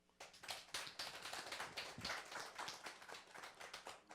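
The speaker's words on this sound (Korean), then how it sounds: "여러분들이 이 말에 공감을 가졌다면 박수로 화답해 주시기 바랍니다." A small audience at a lecture claps in a close, crisp burst of overlapping hand claps that runs steadily for several seconds.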